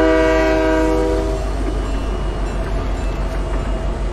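A loud video game train horn blares at first, then the rumble and clatter of a passing train continue, close and steady.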